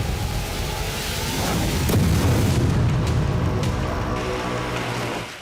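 A deep, heavy explosion from a Russian strike on a Ukrainian city, a sustained booming rumble that swells and lingers for several seconds, loud and noisy with no voices.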